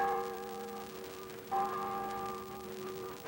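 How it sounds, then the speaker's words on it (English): Church bells ring out for the Sabbath during the 1956 Liberian inauguration week, two resonant strikes with long sustained hum, somewhat distant in an old recording. "The bells ring out the Sabbath."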